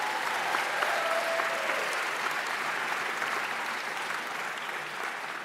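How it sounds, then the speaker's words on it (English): A crowd at a middle school closing ceremony claps steadily for several seconds, a broad even wash of applause that tapers slightly toward the end, with no speech over it. "Give our PA president a round of applause"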